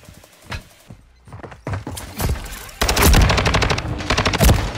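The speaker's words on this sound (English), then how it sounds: "Who the fuck is shooting at me like that?" Gunfire in Call of Duty MW3 on PS5: a few isolated shots give way to rapid automatic bursts, loud and close, with sharp repeated cracks filling the second half.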